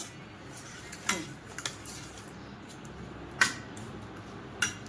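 A spoon clinks and scrapes against a metal pot while chili powder from Byadgi chillies is mixed into raw mango pickle, giving a few sharp, separated metallic taps over a quiet background.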